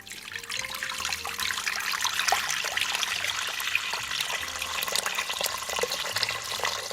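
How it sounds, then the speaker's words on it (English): Water pours steadily from close range into an Instant Pot, a continuous splashing trickle that rises slightly as the pot fills, with no talking. "Add your water."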